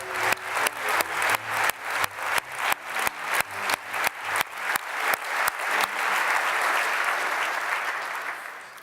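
Audience applause for award winners at the 2018 European Heritage Awards ceremony: a loud crowd claps continuously, with sharp regular transients that suggest rhythmic clapping at first, then settles into a dense, sustained wash of clapping that slowly fades.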